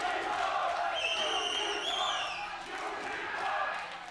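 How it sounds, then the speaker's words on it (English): Dense, rowdy crowd roar from an esports audience at the EU LCS Regional Qualifier final, a League of Legends match between Splyce and Unicorns of Love, with chanting voices blending into a steady wall of noise and a few whistle-like tones. "Crowd is getting rowdy. Good to hear the Splyce chants, though."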